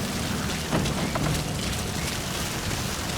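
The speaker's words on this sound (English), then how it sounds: "Sound of rainfall should help to mask your footsteps." Steady rainfall in a video game stealth mission, a dense, even hiss of drops that fills the whole stretch, with faint low rumbles beneath and no speech.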